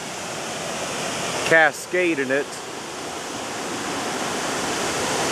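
Water pours steadily over the Six Mile Creek aqueduct of the Miami and Erie Canal, a broad constant rushing roar heard close by throughout, with someone speaking briefly over it partway through.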